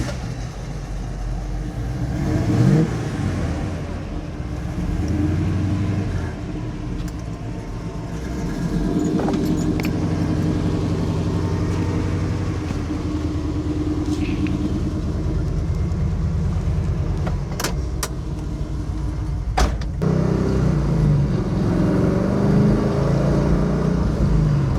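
A 1968 Camaro drives along with a steady low engine rumble and road noise throughout, heard from inside the car, with a few sharp clicks and knocks and no voices.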